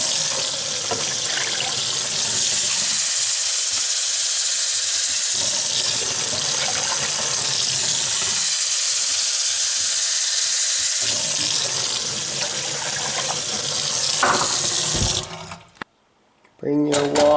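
Tap water runs steadily into a container as three cups are measured for cooking tapioca pearls for bubble tea, a continuous close hiss that cuts off near the end with a brief clatter.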